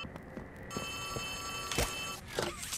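Telephone in Poppy Playtime Chapter 3 rings with a bright electronic trill, faint and brief, broken by short clicks and knocks in a quiet game setting.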